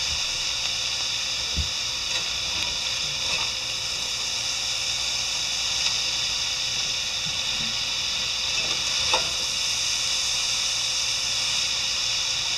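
Paleo beef stir fry sizzling steadily in a pan, a constant bright hiss with a few faint clinks and bumps, no talking.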